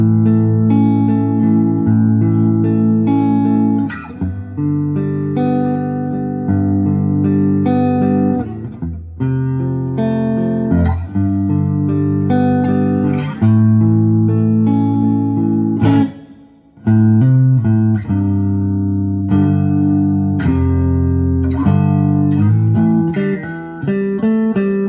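A 2021 Epiphone Prophecy Extura electric guitar with its volume turned back up to full, ringing out sustained distorted chords and riffs with reverb and echo, loud and steady with one brief gap.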